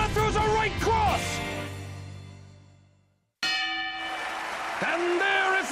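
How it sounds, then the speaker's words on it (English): Anime boxing match: a ringing bell tolls to end the round, its tone decaying to silence before sounding again, over an excited commentator's voice. "And there is a bell ending round one!"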